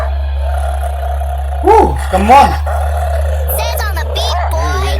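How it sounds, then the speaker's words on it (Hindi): A growling dog or wolf sound effect in a Hindi rap track, heard as two short snarling bursts over a steady low beat, with someone speaking briefly near the end. "ये आवाज ये घुर्राने की आवाज है ना यार"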